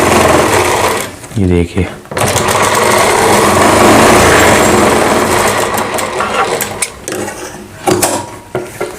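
A sewing machine stitches along both sides of a kanchli bodice, giving a steady, close mechanical whir with ratcheting clicks that runs almost without pause, and a voice speaks briefly near the start.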